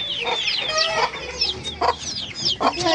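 Rooster and hen clucking close by, a run of repeated bright clucks and short squawks in quick bursts with brief pauses between.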